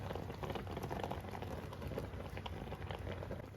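Chicken and egg simmer in a pan for oyakodon, a steady close bubbling and sizzling hiss that runs evenly without pause.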